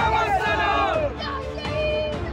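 A crowd at a street march in Kerala chants and shouts provocative slogans, a loud massed roar of many voices with sharp surges of yelling.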